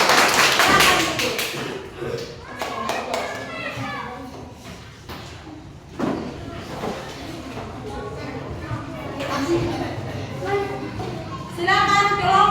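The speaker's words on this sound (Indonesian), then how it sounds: "tepuk tangan buat kelompok 1" Elementary school classroom where children clap for the first group after a presentation, a short burst of loud clapping at the start followed by children's chatter, taps and thumps, with more clapping near the end.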